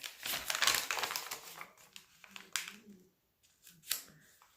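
Scissors cut through a paper-bag page in a burst of crisp, close snips and crinkles, then a pause. A few more sharp isolated cuts follow.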